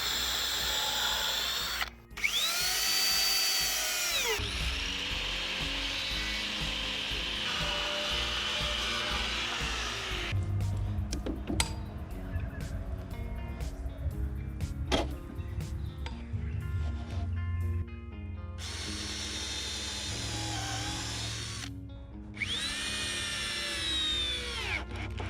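Power tool driving bolts into wooden braces on a portable wooden mountain-bike drop, with repeated loud whirring bursts separated by pauses filled with clattering and tapping on wood.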